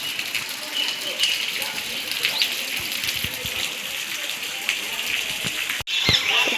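Rain falls in sunshine, a continuous rushing patter of water close by, with people talking intermittently over it and a sharp knock near the end.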